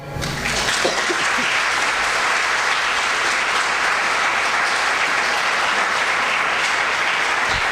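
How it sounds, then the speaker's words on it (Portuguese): Church congregation applauding, a dense steady wash of clapping that swells in within the first half second and holds at full strength throughout, close and loud with no talk over it. "Aplauda ao Senhor."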